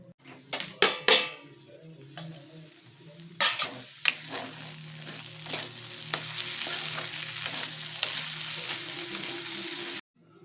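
Savar dode vegetables sizzle and crackle steadily in a hot pan after tempering, with a few sharp spatters at the start, then a constant hiss until it stops abruptly.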